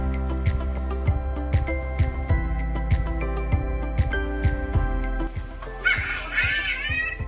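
A spotted catbird calls from thick rainforest foliage, giving a harsh, wailing, cat-like cry near the end over a steady, continuous musical bed that carries through the whole stretch.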